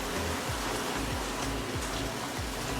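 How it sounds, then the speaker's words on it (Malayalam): Heavy rain falls outside, a constant broad hissing wash heard from indoors in a kitchen, with a faint repeating low thump running beneath it. "പുറത്ത് നല്ല മഴയാണ്, സൗണ്ട് കേൾക്കുന്നുണ്ടെന്ന് തോന്നുന്നു അല്ലേ?"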